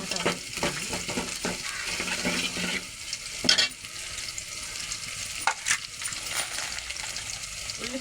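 Onions frying in a pan with steady sizzle, broken by several sharp scraping stirs and clinks of a spoon against the pan, close and moderately loud.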